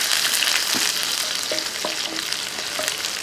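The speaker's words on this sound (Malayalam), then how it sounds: "ഇനി നമുക്ക് ഇതിനകത്തോട്ട് ഒരു മൂന്നാലഞ്ച് ചെറിയ ഉള്ളി അരിഞ്ഞു വെച്ചിരിക്കുന്നത് ഉള്ളിയും ഇട്ട് കൊടുക്കുക ഒന്ന് ഇളക്കി കൊടുക്കുക" Chopped shallots sizzle in hot oil with mustard seeds for a Kerala pulissery, a dense, loud, continuous frying hiss with a few faint stirring clicks, close and without speech.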